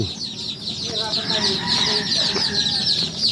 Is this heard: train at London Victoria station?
no